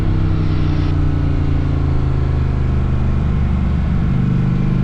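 A motorcycle engine pulls hard under throttle on a wet mountain road through Sumter National Forest, a loud, close, steady drone whose pitch shifts as it accelerates, with constant wind noise.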